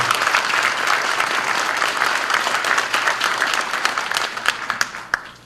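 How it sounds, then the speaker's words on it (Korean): At a regional party founding event, an audience gives a steady, full round of applause for honoured elder guests, sustained throughout and thinning into a few louder individual claps at the end. "힘찬 박수 부탁드립니다"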